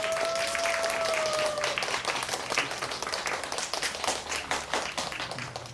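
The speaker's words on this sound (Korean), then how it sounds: "여러분 뜨거운 박수 부탁드리겠습니다." Audience applause at an outdoor pansori busking performance during a world pansori festival, steady dense clapping that fills the whole stretch, with a brief high tone fading early on.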